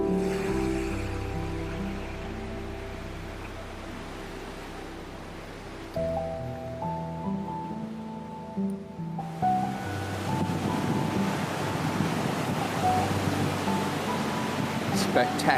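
Surf rolls onto a beach at Bulls Island, a steady broadband wash that swells louder partway through, with wind buffeting and faint background sounds mixed in.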